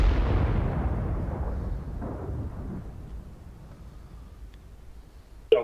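A heavy artillery blast in World of Tanks booms at the start and its low rumble slowly fades over several seconds, ending in a brief sharp crack.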